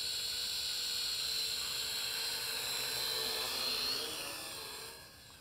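A Huanqi 897B beginner trainer quadcopter drone hovers and flies with a steady high-pitched whine of small propellers, holding level for several seconds before fading slightly at the end, heard alone.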